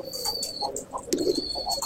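Rampuri pigeons kept at a home loft cooing softly, a few low throaty coos close by amid faint background chirps and a thin high electronic whine.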